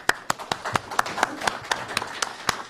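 Scattered clapping at a news conference on the sale of State of Hawaii bonds, about a dozen distinct sharp claps spaced irregularly across a quiet room rather than a full, sustained ovation.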